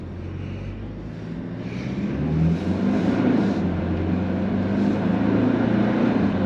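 A 2024 Toyota LandCruiser 2.8 turbo diesel with a six-speed automatic accelerates uphill, its low, steady engine drone swelling noticeably louder partway through and holding strong to the end, with no talking.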